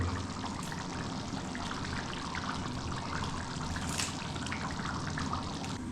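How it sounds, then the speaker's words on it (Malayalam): Rice boils in a pot with a continuous, moderately quiet bubbling and gurgling wash of water and no voices. "അങ്ങനെ ചോറ് തിളയ്ക്കുന്നുണ്ട് കേട്ടോ."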